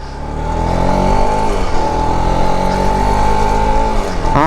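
A vehicle that had sat parked for days revs hard while standing still, its engine drone climbing and holding loud and close for several seconds, steady and unbroken with no talk.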